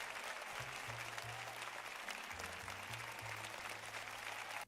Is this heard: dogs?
no